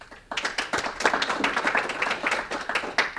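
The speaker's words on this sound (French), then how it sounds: "Je vous demande d'applaudir Marie-Cécile de Castellan." An audience at a talk applauds as a speaker is welcomed to the stage, a lively patter of many hands clapping at close range, continuous and fairly loud with no voices.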